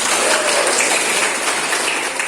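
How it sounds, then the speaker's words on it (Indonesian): A classroom of students applauds together, a dense, loud burst of many hands clapping that holds steady throughout with no voices heard. "Sekarang tepuk tangan."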